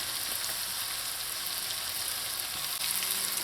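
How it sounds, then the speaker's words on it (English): Chopped onions and celery fry in butter for a lobster chowder, giving a steady, close hiss and crackle of sizzling with faint stirring, no talking. "To the butter I'm going in with some chopped onions, chopped celery,"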